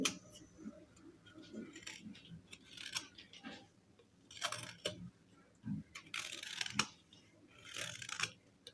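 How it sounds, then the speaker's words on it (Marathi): A potato peeler scrapes the skin off a raw green mango in quick, uneven strokes, producing faint, close rasping and clicking bursts separated by short pauses. "बटाट्याचं साल काढायचं असतं ते त्याने आपण ही कैरीची साल काढायची आहे"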